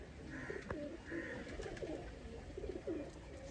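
Pigeons coo softly in a few low repeated calls while being released and shown among teddy and golden breed birds, set against steady outdoor background noise.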